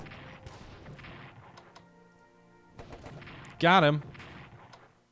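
Gunfire and artillery blasts against a British unit in the World War I strategy game Strategic Command, scattered shots topped by one loud sharp burst near the end, with someone speaking briefly.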